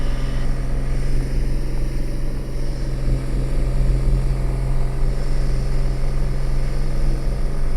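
A Piper Cherokee Six's piston engine and propeller drone steadily in flight during bush flying, a loud constant low hum with strong tonal bands heard from inside the cabin, with no talk over it.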